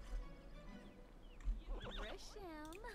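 Horse on a ranch in The Sims 4 video game giving a high, wavering whinny near the end, with faint hoof clip-clops and people talking quietly underneath.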